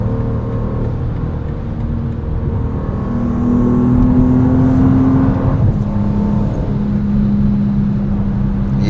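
A 2026 BMW M2 in manual mode accelerates with upshifts, a loud close engine drone heard from inside that rises in pitch, drops at a shift, then climbs again under steady road roar.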